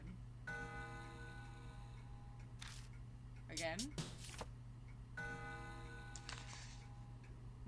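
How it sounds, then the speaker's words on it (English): A clock in the video game Spirit Hunter: NG ticks and whirs mechanically as its long hand is spun, giving bursts of clicks and winding rattles over a steady low hum, with a voice speaking briefly. "When I spin the long hand, the clock makes a noise."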